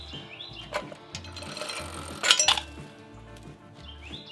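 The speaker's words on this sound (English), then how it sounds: "And chain comes off." A bike chain coming off the sprocket of a Coleman BT200X minibike, light metallic clinks and rattles near the mic with a brief sharper jangle, against a repeating low mechanical pulse.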